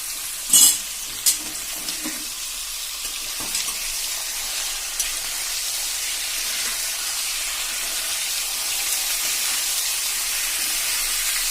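Thin potato slices fry in a wide, flat-bottomed pan over a full gas flame, a steady bright sizzle with a few sharp scraping stirs near the start, then continuous hissing oil alone.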